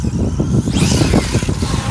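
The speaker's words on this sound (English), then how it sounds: "Gears don't sound all that bad." Traxxas X-Maxx RC car fitted with a GPM cush drive eliminator, its gears and motor whirring loudly and steadily, rising into a brief high whine partway through, with no talking.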